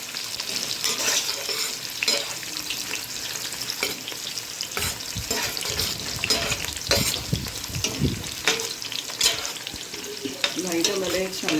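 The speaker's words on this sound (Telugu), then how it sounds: "మ్యారినేట్ చేసిన మన ప్రాన్స్ వేసుకుందాం. ఆనియన్స్ మాడిపోకుండా చూసుకోండి." Marinated prawns fry with onions in hot oil for prawn pulao, a busy, close sizzle broken by repeated scraping stirs and clattering spatula strokes throughout.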